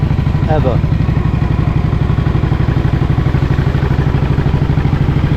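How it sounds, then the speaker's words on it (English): A Matchless Model X motorcycle engine runs at a steady, even idle, loud and close, with a regular fast chugging rhythm throughout and a brief higher mechanical squeal near the start. "the actual engine is running sweetly, as it should"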